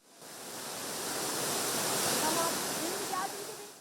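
Düden Waterfall in Antalya, Turkey, as a steady broadband roar of falling water that swells in and holds evenly, with no voices.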